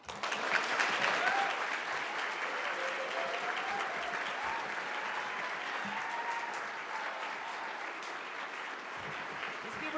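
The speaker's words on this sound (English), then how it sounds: "Let's give her a big round of applause" A long, steady round of applause from an audience at a San Francisco Court Appointed Special Advocates event, with faint voices mixed into the clapping.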